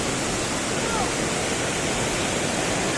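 Swollen, fast-rising river in flood carrying debris, roaring as a steady, dense, loud wash of rushing water with no break throughout.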